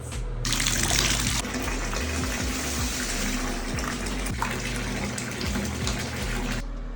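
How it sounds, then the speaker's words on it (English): Bathtub filling from a running tap at home, a steady loud rush of water over a constant low hum from a nearby fan, continuing without a break. "I'm going to be prepping myself a bath"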